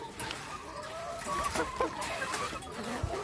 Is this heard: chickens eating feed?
yes